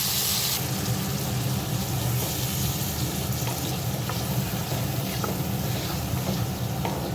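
Ground ginger and green chilli paste hits vegetables in a pan, giving a steady sizzle and frying hiss with occasional soft stirring clicks, moderately loud and without talking.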